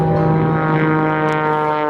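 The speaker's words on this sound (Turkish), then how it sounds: "Uçağa maksimum gücü veriyor ve mor menekşe homurtular çıkartarak piste ilerliyor." A propeller aerobatic plane at an air show revs at full power while taxiing onto the runway, giving a loud, steady, close droning roar throughout with no speech.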